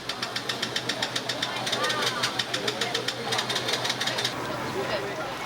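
A motorcycle engine sputters in rising tidal flood water in Incheon, giving a fast, regular putter of pulses that cuts out near the end, with a voice talking over it.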